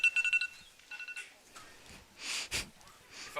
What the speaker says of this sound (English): Your phone going off, Natalie?